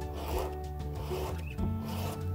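Sandpaper rubs over a thin piece of sawn wood with a steady scratchy friction, close and continuous, with no talking.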